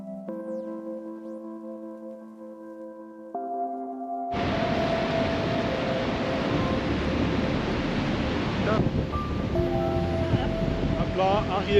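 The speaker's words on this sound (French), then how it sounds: "Des vagues qui cassent violemment." Heavy ocean swell off Toau atoll in French Polynesia breaking violently, a loud, continuous broadband wash of surf and wind roaring close by after a quieter start, with people talking over it.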